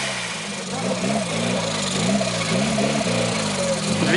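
Engine running with a rough, uneven labouring drone that rises and dips, loud and close, without any clear cutout.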